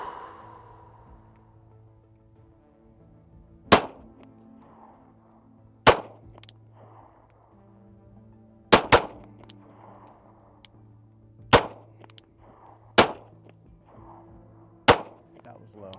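Handgun shots fired at a 100-yard target with Speer Gold Dot ammunition ring out as seven sharp, loud cracks at irregular intervals, with a low steady hum running underneath.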